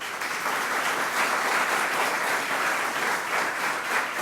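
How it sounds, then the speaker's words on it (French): Audience at a motivation seminar applauds in a steady, dense wash of clapping that holds evenly throughout. "N'a pas applaudi encore une fois"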